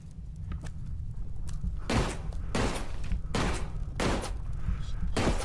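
Repeated gunfire from a Peaky Blinders VR game, a loud fusillade of broadband bursts arriving in clusters roughly every second and a half over a steady low hum, with no talking.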